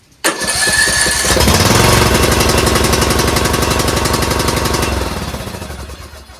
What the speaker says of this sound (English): As you see, we have no problems with it starting now.